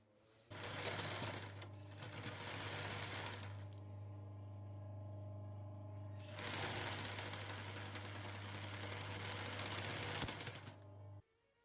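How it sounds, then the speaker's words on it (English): A sewing machine running a long seam on upcycled tablecloth fabric, two sustained bursts of fast, even stitching with a steady motor hum, a brief slower patch between them, and no talking. "I'm gonna sew that closed."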